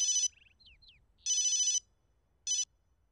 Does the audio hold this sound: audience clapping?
no